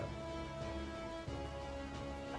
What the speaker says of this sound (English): The rain's kind of bothering me a bit.